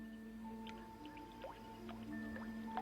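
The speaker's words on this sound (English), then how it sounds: "With these drops of water," Water drips at the source of the River Nile in the remote uplands of Central Africa: scattered single drops plopping at an irregular pace, faint and close, over a quiet humming background.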